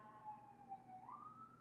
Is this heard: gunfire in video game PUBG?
no